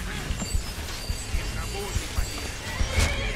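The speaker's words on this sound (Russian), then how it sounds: "Ты не трогай мою лошадь." Horse in the video game Skyrim whinnies amid clip-clopping hooves and combat clatter, with a person talking over the game sounds.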